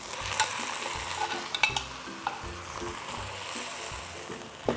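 CDO Homestyle Chicken Flakes being stirred in a pan, with a soft, continuous sizzle under repeated scraping and knocking strokes of a spoon, heard up close.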